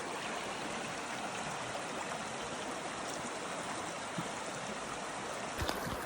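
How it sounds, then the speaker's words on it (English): Nickel Creek, a small stream in a shaded, enclosed spot along a mountain hiking trail, flows with a steady, close, continuous babble and trickle, faint overall, with a brief knock near the end. "So this is Nickel Creek."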